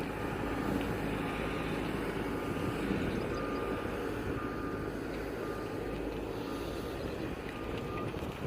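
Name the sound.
motor grader with trench shoe attachment working, reversing beeps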